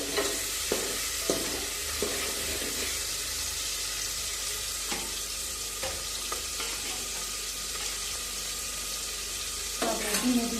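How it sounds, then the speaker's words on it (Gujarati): Tomatoes and chilies sizzle in a pan on the stove while a spoon stirs them. A steady frying hiss runs throughout, and close scraping and stirring knocks recur at irregular intervals. "થોડી વાર હલાવીશું ટમેટા અને મરચાં સરસ રીતે ચડી જાય"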